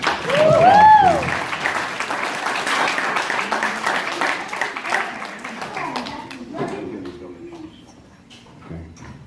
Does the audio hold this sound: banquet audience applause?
yes